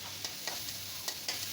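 Egg with carrot, peas and ginger fries in a pan, a soft steady sizzle broken by a few light stirring scrapes, faint and close.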